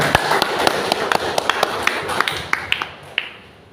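Scattered, uneven hand claps from a small gathering at the Festival Niki Madja 2023 in Sabu Raijua, with sharp individual slaps over a murmur of background voices before fading out.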